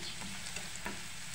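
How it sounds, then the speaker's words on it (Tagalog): Garlic and onion sautéing in a pan for stuffed crab, a brief dense sizzle with faint stirring scrapes, close and steady, without talk. "Basta daw igisa ko, bawang, sibuyas."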